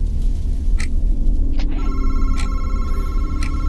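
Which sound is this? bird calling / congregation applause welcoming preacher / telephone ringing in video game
telephone ringing in video game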